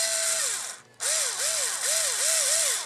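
Powered screwdriver bit driving screws into a Tamiya CR-01 RC car during assembly, a close, whining motor that pauses once then returns, its pitch dipping in about five rhythmic loading cycles.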